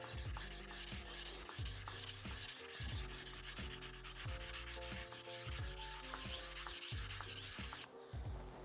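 A knife blade is polished on a water stone, working the tip and heel into the corners, with steady rhythmic rubbing strokes that run close and continuous over a faint musical background.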